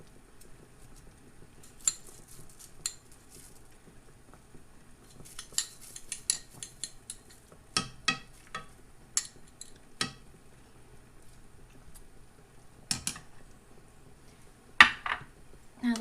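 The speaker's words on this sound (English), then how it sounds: "So I'm just going to mix that in with the broth." A spoon stirs dried onions and a bay leaf into broth in a pot for an oven pot roast, giving sparse, close metallic clinks and scrapes at irregular intervals against a quiet background.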